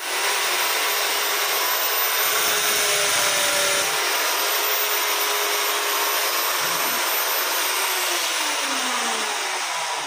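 Yamata electric drill running steadily and loud for the whole stretch, a continuous whirring motor drone with slight pitch shifts and no voices.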